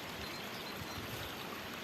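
A spring's water flows steadily outdoors in a natural setting, a continuous soft rushing and trickling that holds even and unbroken with no voices.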